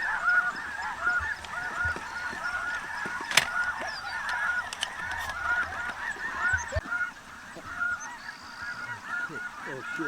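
A large flock of snow geese honks continuously during a spring hunt, a dense, steady chorus of overlapping calls close and far, with a few sharp knocks and no talking.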